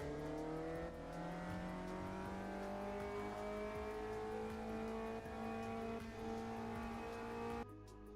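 A Caterham's engine in a racing sim game: one continuous loud drone whose pitch slowly falls and then rises as the car drives, with faint tire noise, ending abruptly.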